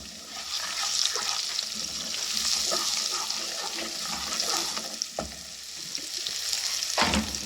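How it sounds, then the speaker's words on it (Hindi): Spice masala of coriander powder, turmeric, red chili and green chilies sizzling and frying steadily in a pan for a lentil dish, with a few stirring knocks near the end, no talking. "मसाले को बहुत अच्छी तरह भूनेंगे कि इसका कच्चापन ख़त्म हो जाए"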